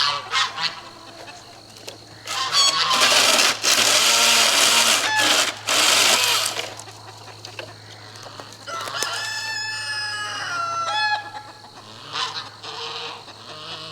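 Farmyard chickens cluck and a rooster crows close by, with goose-like honks mixed in, the calls loud and overlapping in bursts, then quieter intermittent squawks and clucks.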